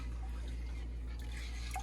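Tap water runs steadily into a kitchen sink during home canning of strawberry pie filling, a continuous low wash with faint dripping and splashing and no voices.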